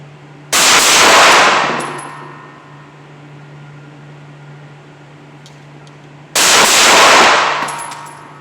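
Two loud pistol shots fired at long range outdoors, about six seconds apart, each a sharp crack with a long ringing decay and no talking.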